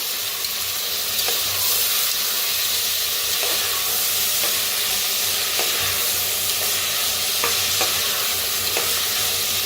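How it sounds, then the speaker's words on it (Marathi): Coriander, tomato and peas roast in a hot pan, giving a steady close sizzle with occasional scrape-like stirring clicks throughout, and nobody speaks. "सगळं भाजून घेऊया"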